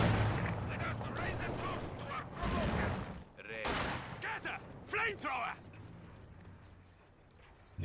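Machine gun and sniper fire in Company of Heroes 2, a World War II strategy game battle, with bursts of gunfire and sharp cracks scattered through the clip under steady battlefield noise and a talking voice.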